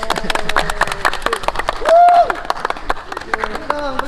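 A small group claps in quick, sharp bursts that are loud and close, mixed with voices talking and a brief vocal tone in the middle.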